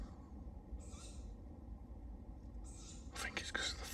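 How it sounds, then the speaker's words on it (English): An owl calls faintly at night in woodland near a hammock camp by a fire, its calls brief and distant beneath close, hushed whispering. "Can you hear that bloody owl still?"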